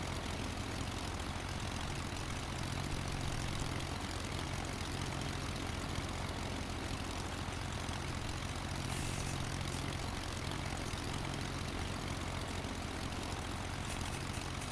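A small propeller airplane flies at low altitude, giving a constant close engine drone and hum under steady wind rush, with no one talking.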